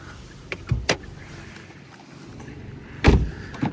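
Power windows working on a Korean-market Kia Soul car, short whirring motor runs separated by pauses, with a brief click and a louder final motor burst, close and fairly clear.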